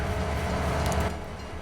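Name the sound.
train starting and running, from video game Farming Simulator 22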